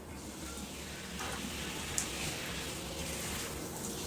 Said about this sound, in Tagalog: ito naman yung talagang shower na ang dami ng tubig na lumalabas